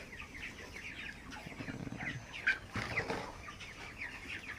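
Chickens cluck steadily in a farm flock, with brief wing flaps and a few louder squawks over a constant low barnyard murmur; no one is speaking.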